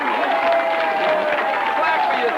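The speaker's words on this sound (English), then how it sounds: "let's clap for you." An audience applauding at a gathering in Atlanta, a dense, steady wash of clapping hands from a crowd, loud and continuous throughout with murmured voices mixed in.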